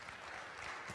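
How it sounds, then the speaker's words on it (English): Brief burst of applause from a church congregation, fairly quiet and steady throughout, with no talking over it. "Everybody give God a hand clap of praise."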